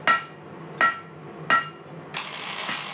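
Hammer blows forging hot steel for a metal spider sculpture, three sharp ringing strikes at even intervals, then a longer scraping, rasping metallic sound, close and clear with no talk.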